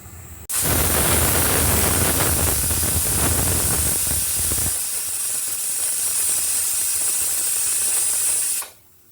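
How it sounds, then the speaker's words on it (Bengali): A pressure cooker holding egg biryani on the stove releases a loud, continuous rush of hissing steam that starts abruptly, holds for about eight seconds, then cuts off. "আমি বিরিয়ানিটা বসাই দিচ্ছি প্রেশার কুকারে ঢাকনাটা আমি লাগিয়ে দিচ্ছি এক সিটি পর্যন্ত অপেক্ষা করব"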